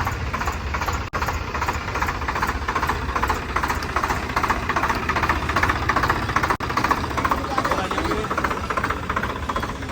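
A Swaraj 855 tractor's steady diesel engine chugs and rumbles continuously at close range, with a rhythmic knocking throb throughout.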